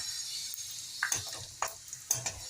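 Chopped onions hit hot oil and spices for malai cauliflower, giving a soft, hissing fry punctuated by a few sharp clicks and scrapes of a spoon against the pan.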